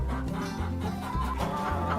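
Laying hens clucking inside a farm hen house near their nest boxes: a close, continuous jumble of overlapping clucks and low murmurs from several birds.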